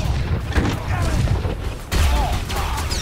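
Blaster and gun fire crackles through a Star Wars The Old Republic battle, dense booms and thuds layered over constant loud game noise.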